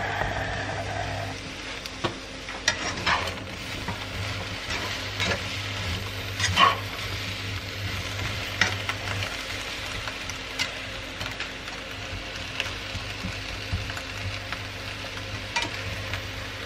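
Food frying and sizzling in a pan, a soft continuous sizzle with scattered clinks and stirring taps and a low background hum, no voices.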